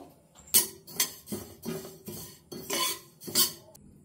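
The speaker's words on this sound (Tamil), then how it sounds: "எல்லாத்தையும் ட்ரை ரோஸ்ட் தான் பண்ண போறோம் இப்போ." Black cumin seeds dry roasting in a pan while being stirred, heard as a series of sharp metallic scrapes and clinks of a spoon against the pan in a steady rhythm, close and clear with no talking.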